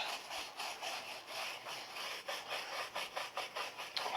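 Stiff plastic-bristled brush scrubbing hard on an off-road truck tire wet with cleaning chemical, a continuous rasping rub with rhythmic back-and-forth strokes, close and steady, no talking.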